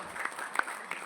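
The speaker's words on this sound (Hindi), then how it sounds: "एक जोरदार तालियां ब्रिगेडियर साहब के लिए" An indoor audience at a university workshop gives a brief round of applause for a brigadier, a soft, steady patter of clapping hands with a few sharper claps standing out.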